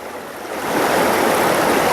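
River water rushes past a gravel bar, a loud, close, broadband hiss of flowing current that swells in after a moment and then holds steady without any voices.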